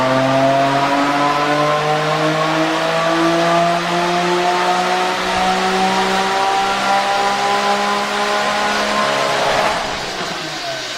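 A Bugatti EB110 engine on a dyno winds up in one long, loud, steadily climbing pull, its layered harmonic roar rising in pitch for about ten seconds before easing off at the end, with no talking over it.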